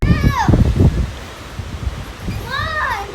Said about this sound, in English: I think because it's windy.